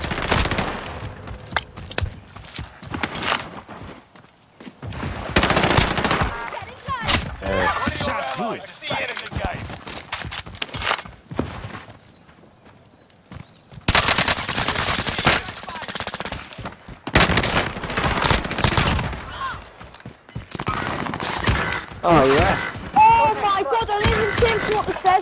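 Enemy soldiers firing guns in a video game produce bursts of loud automatic gunfire in separate volleys, with quiet gaps between them and voices talking over parts of the shooting.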